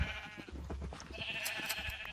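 Sheep bleat in Minecraft, several quick, wavering bleats in a row at close range, moderately loud, with no speech over them.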